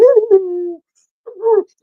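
A human voice imitates coyotes howling in a Cleveland suburb: a loud drawn-out wavering howl, a pause, then a shorter yipping howl, close and alone.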